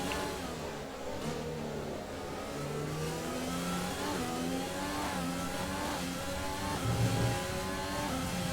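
An F1 2020 video game race car engine accelerates, with rising and shifting revving tones over a steady background engine drone, fairly quiet and continuous, with no talk.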